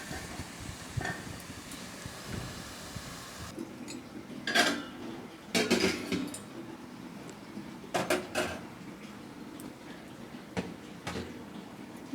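A metal pot of shapla and prawn curry is covered to cook: a few sharp clinks and clatters of a lid and utensils over quiet kitchen background, spaced out across several seconds.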